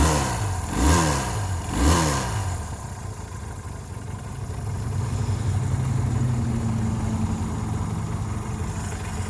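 A 1975 Honda CB200T motorcycle engine, close by, gives two quick throttle blips and then settles into a steady, even idle for the rest of the clip, with no talking.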